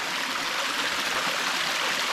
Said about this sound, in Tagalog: May talon-talon po dito eh.